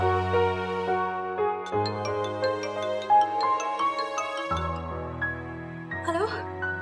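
A phone ringtone plays a bright melodic tune in a domestic scene from a Hindi TV drama, repeating steadily with short pauses between phrases, with a brief sound at the end.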